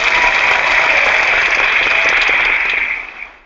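Audience applause after a presentation, a dense, loud wash of many hands clapping that holds steady for about three seconds and then tapers off quickly.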